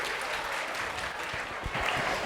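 Applause from the audience for a group of girls who just performed a modern garba dance at a school annual function, a steady spread of clapping that fills the whole moment at moderate level.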